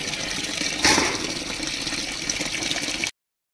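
Water sloshes and splashes loudly as wheat grains are washed by hand. A continuous close swishing with one stronger splash early on cuts off abruptly, with no talk.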